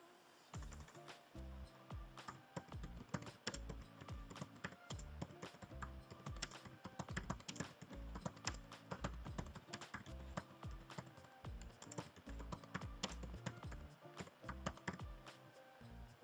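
Fingers type on a computer keyboard while entering student attendance details into Edmodo, a close, continuous run of crisp key clicks with irregular rhythm and occasional heavier key thumps, with no voice over it.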